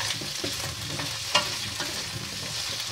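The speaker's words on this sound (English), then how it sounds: "we're going to add our potato. Just let them sear." Potatoes sear in a pan for chicken afritada with a steady close sizzle, overlaid with light clinks and scrapes of stirring and one sharper clack midway.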